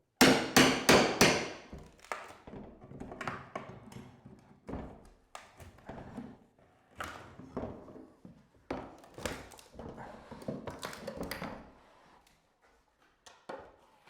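A hammer strikes an old notched 5/4 trim board while it is pried loose during a kitchen tear-out in an old house, giving sharp, close, irregular blows in quick clusters with pauses and a few lighter taps between.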